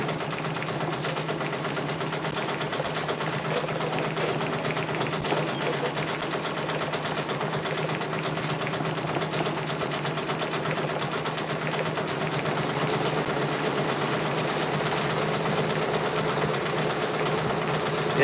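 A Brother Persona PRS100 embroidery machine stitches patches with a steady, continuous mechanical whirr and a fast needle rhythm, running evenly and close by throughout with no talking.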